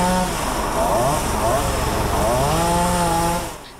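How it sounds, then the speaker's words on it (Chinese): A chainsaw cuts a large roadside tree brought down by a typhoon into sections, a loud sustained whine that rises and falls continuously and stops near the end. A reporter speaks over the saw. "再出动电锯，把倒在路边的巨大路树切成好几段"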